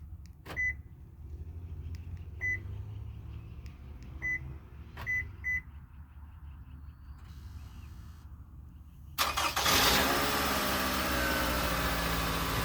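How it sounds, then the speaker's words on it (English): A 2011 Toyota RAV4 fires up via a remote starter: a series of sharp beeps and clicks over quiet background, then the engine cranks and catches near the end, settling into a loud, steady idle. "The remote starter worked on the 2011 Toyota Rav4."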